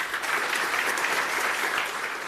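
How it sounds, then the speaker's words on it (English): Audience at an academic-year opening ceremony applauds a panel with steady, dense clapping throughout, a full even wash of many hands with no talk over it. "A big applause for our panel."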